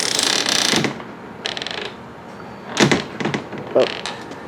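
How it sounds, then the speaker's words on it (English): A dual-axle travel trailer's entry door clicks and rattles open, with a few short mechanical latch and hinge sounds close by and separated by pauses. "we first come in the door."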